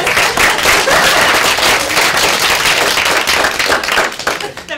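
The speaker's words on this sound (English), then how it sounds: "Round of applause." An audience at a science conference session gives a loud, dense round of applause, many hands clapping steadily before fading slightly at the end.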